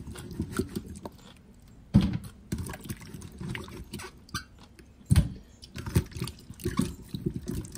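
Water is drained off cut vegetables being prepared for pickles, giving soft splashing and trickling with a few sharper clatters, fairly quiet and close, with no speech.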